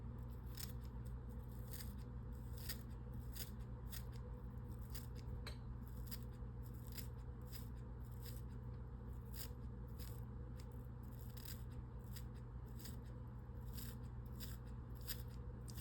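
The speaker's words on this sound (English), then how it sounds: "So we're going to trim this at an angle." Scissors trim material at an angle while tying an 8/0 monster rat fishing fly, making a steady series of close, crisp snips and small clicks over a low background hum, with no talking.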